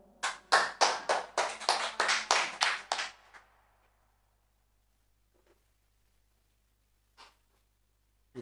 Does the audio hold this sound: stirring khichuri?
no